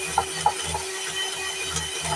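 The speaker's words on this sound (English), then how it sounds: "So, I'll turn the mixer on." An electric mixer whips sugar into yogurt for a semifreddo, giving a steady mechanical whir that pulses rhythmically with a few light clicks and runs close and moderately loud, with no voices.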